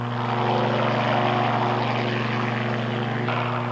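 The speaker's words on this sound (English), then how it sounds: "helicopters are used to spray from the air" A crop-spraying helicopter's loud, steady engine drones close by over a farm field, with a throbbing rotor hum holding constant throughout and no other sounds.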